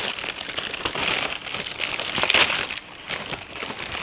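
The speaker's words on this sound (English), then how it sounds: "lots of rustling noises" Close, continuous crinkling and crackling of plastic packaging being handled, with sharper crunches now and then and no speech.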